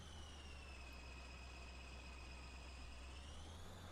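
A tractor engine in the Farming Simulator 19 video game runs at a steady idle, a continuous low rumble with a constant mechanical drone above it. No one talks over it.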